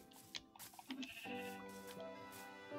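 A Minecraft sheep lets out a clear, sustained bleat, preceded by a few soft clicks and footsteps, heard faintly in the game.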